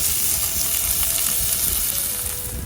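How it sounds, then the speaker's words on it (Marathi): Flour-coated fish, black pomfret and sounday, deep-frying in oil on a wood-fired stove, giving a steady, dense sizzle and crackle that stays even and loud throughout with no voices. "याचं पूर्ण पीठ वगैरे लावून घ्यायचं आणि असं तेलात सोडून द्यायचं"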